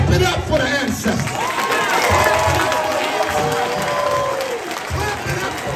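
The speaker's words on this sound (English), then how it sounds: "Brothers and sisters, clap it up for the ancestors." An audience at a speaking event in Atlanta claps and cheers continuously, a dense crowd applause under an amplified voice that speaks over it.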